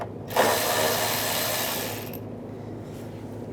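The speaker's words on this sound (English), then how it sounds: "Loosen up this worm clamp near the throttle body, use the 8mm socket." A ratchet with an 8mm socket loosens a worm clamp near the throttle body of a 2011-2018 Ram 1500 3.6L V6, giving a fast, continuous clicking buzz for about two seconds, close and loud, then quiet.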